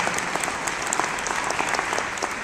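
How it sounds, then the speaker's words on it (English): Audience at the Red Robinson Theatre gives a brief round of applause after a talk, a dense, even wash of many hands clapping at moderate volume, with no speech over it. "Let's give Derek a round of applause for that."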